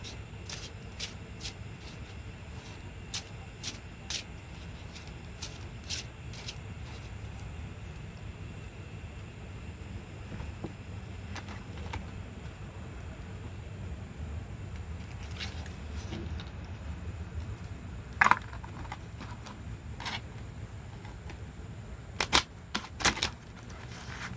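Trading cards shuffled in small stacks, giving faint, quick riffling and sharp clicking bursts scattered over a quiet background hum.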